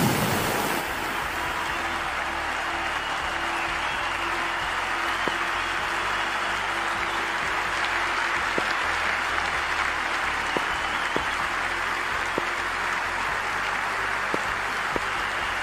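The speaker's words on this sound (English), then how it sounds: "the crowd is making plenty of noise for the opening game" A cricket stadium crowd cheers as players come out for the opening game of a women's T20 World Cup match between Bangladesh and England, a broad steady roar with scattered claps, heard alone without commentary.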